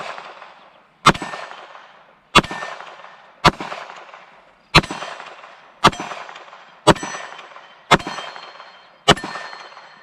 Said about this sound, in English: First target I'm going to go after is going to be the MGM Target's Gong